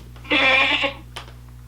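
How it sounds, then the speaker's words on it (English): A single goat lets out one loud, quavering bleat close by, followed by a faint short noise, with a low steady hum underneath. "A goat sounds like this."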